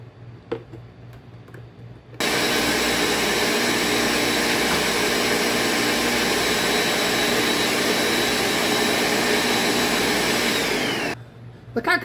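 A food processor blends hummus as olive oil is added, starting abruptly and running as a loud, steady whirring motor drone for about nine seconds before cutting off, with faint clicks and handling before and after.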